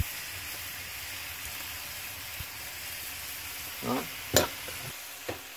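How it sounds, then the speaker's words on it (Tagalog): Aromatics sauté in a pan for tinola, a steady close sizzle of frying under a few clinks and scrapes of stirring, with a brief voice partway through. "Igisa natin para bumango."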